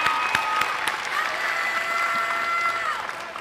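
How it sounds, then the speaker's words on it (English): Large crowd applauding families at a high school graduation ceremony, continuous loud clapping with some cheering that carries through the whole stretch and fills a big hall. "Can we all clap for all of our families?"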